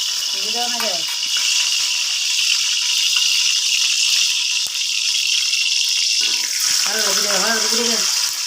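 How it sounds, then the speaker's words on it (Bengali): Onion, garlic and green chilies frying in a pan, a steady loud sizzle throughout, with a couple of brief voice-like tones rising over it near the start and end. "পেঁয়াজ রসুন আর কাঁচামরিচ ভাজমো আগে"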